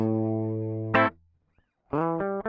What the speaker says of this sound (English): So if I just play you the raw guitar DI,